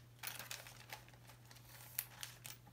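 A small plastic parts bag crinkles in several quick bursts up close during a Commodore Datasette rebuild, with a low steady hum underneath and no talking.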